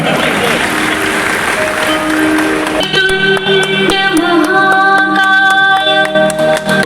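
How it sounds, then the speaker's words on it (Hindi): Applause from an audience at the inauguration of a paper mill in Rukanpura, Bihar, opened by the industries minister, a steady sustained wash of clapping mixed with crowd noise and an amplified voice, loud and close throughout. "थोड़ी तालियां होनी चाहिए"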